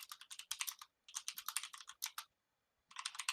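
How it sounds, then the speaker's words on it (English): Rapid typing on a loud, clacky computer keyboard, close up, in three quick bursts of keystrokes separated by short pauses. "Your keyboard is loud, by the way."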